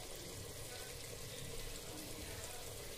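Water poured into frying chicken masala cooked in a pressure cooker, giving a steady broadband hiss and wash of liquid that holds level for the whole stretch, with no voices.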